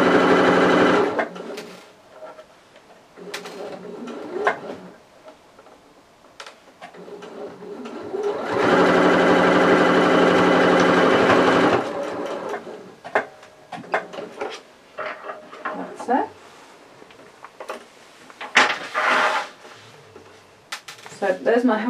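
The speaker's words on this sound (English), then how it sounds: "I'm just going to sew around the back side at the moment" A sewing machine stitching around the back of a fabric toy, with short whirring runs, one long continuous loud burst in the middle, and clicks and handling noises between the runs while someone talks.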